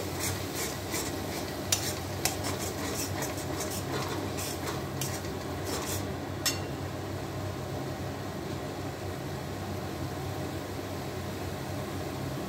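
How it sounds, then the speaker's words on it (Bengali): Spices for prawn kofta being stir-fried in a pan, a steady close sizzle with repeated scraping of a spoon in the first half, then an even continuous frying hiss alone. "এবার ভালোভাবে মশলাগুলো কষাতে হবে।"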